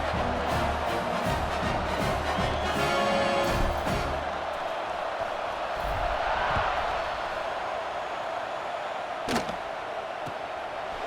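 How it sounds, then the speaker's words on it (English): Football stadium crowd at an Iowa versus Penn State game keeps up a loud, steady roar and buzz after a score, with a sharp thump near the end and a commentator's voice faintly underneath. "this crowd is buzzing after that last score"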